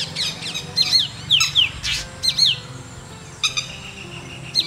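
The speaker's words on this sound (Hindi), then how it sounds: "वो शिकारी पक्षी जैसे उल्लू या कौवा ऐसे शिकारी पक्षी प्रजातियों की कॉल का भी नकल करते रहते हैं।" Wild birds calling in Kumaon, a series of sharp, high whistled and chirping notes in quick bursts, some close and fairly loud, over a low outdoor background hum, with no talking.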